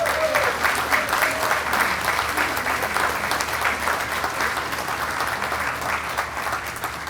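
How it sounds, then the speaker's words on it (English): An audience at a hockey hall of fame event gives a steady round of applause, dense and even clapping that fades slightly toward the end, with no voices over it. "please give these guys a big round of applause"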